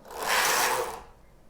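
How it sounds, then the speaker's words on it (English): A Knittax knitting machine carriage slides across the bed without yarn, giving one smooth, rising and fading rasping swish lasting about a second. "When I take my carriage across without laying in any yarn, the knitting will fall from the machine."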